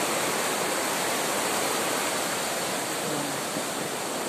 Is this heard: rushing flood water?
yes